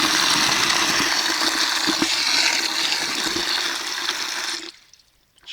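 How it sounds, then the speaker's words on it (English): Water pours steadily into a bucket of grain for growing fodder, a continuous rushing splash that lasts several seconds before stopping abruptly, leaving near silence. "I just add enough water to cover the grain."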